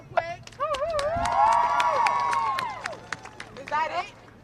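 A large outdoor crowd at a student walkout demanding justice claps, cheers and whistles, swelling to a loud sustained roar before tapering off, with bright whistles cutting through near the start and end.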